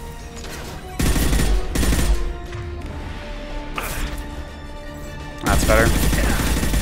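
Mass Effect 2 gunfire comes in loud bursts of rapid automatic shots, with quieter combat sounds between them and a brief spoken word mixed in.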